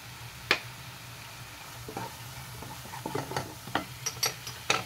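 Masala being stirred in a pan after salt is added, with soft scraping strokes and light intermittent clicks of the spoon against the pan over a faint low sizzle, close and fairly quiet.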